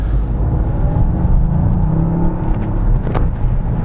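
Toyota GR Yaris small-engine car heard from inside while driving: a loud, continuous engine hum and road rumble with a slight whir, steady throughout.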